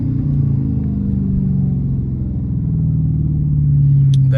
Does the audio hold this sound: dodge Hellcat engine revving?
yes